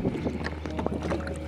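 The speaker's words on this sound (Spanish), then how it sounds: "Hay mucho viento." Strong gusty wind buffets the microphone outdoors beside a river during kayak-side cooking, loud rumbling blasts with fluttering bursts and no speech heard.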